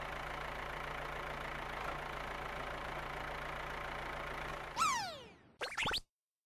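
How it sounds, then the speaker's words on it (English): A green farm tractor engine idles steadily with a low, even drone for several seconds, then cuts out, followed by brief sweeping tonal sounds. "There is a green tractor."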